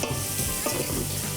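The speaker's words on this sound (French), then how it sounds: "Mélanger ça comme il faut." Vegetables and tofu with smoked paprika stirred in a hot pan, a steady close sizzle with scraping and shuffling of the spoon throughout.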